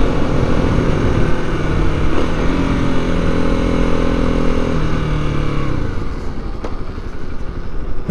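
A motorbike being ridden outdoors gives a loud, steady engine drone with a strong harmonic tone and constant wind buffeting; the engine pitch eases downward after about five seconds while the rumble carries on.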